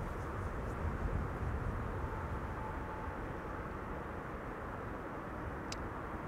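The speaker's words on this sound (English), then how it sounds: "we have the Cargo Lux 747 that is now taxiing to its parking" A Cargolux Boeing 747 taxis to its parking stand, heard as a distant, steady broadband roar of jet engines at idle, even in level with no voices.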